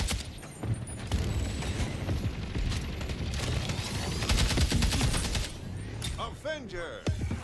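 Rapid automatic gunfire in the online shooter game Splitgate 2, dense loud bursts with mechanical clacks and a few booms, mixed with game effects and someone talking over it.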